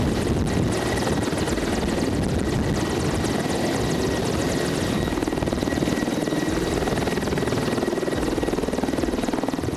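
Mil Mi-24D Hind helicopter at Heli Expo 2012, a steady deep engine and rotor roar with a constant whine on top, loud and unbroken throughout with no talk.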